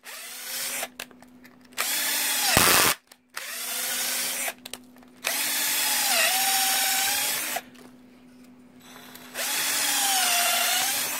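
A power drill with a 1/4 inch bit bores into plastic in several bursts of loud, close whining, the motor rising and falling as it speeds up and slows, with short quiet gaps between runs.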